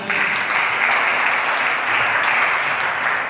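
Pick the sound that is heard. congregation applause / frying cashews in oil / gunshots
congregation applause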